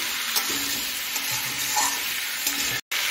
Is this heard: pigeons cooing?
no